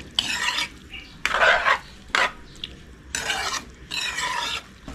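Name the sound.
stirring cow skin stew in a pan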